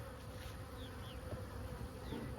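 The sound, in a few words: honey bees buzzing around hive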